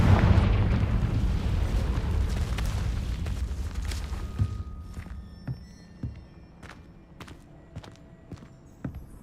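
A Confringo spell explosion in Hogwarts Legacy bursts loud and close at the start and rumbles away over several seconds, leaving scattered footsteps and small pops in a quiet space afterward.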